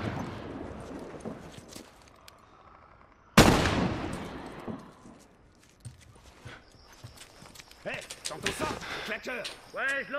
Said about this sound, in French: il tire sur les zombies